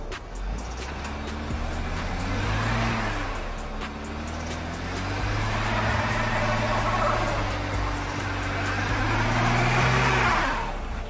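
A car's engine whines and revs in long rising and falling pulls as the wheels spin in snow with traction control off, steady and fairly close, with no talk.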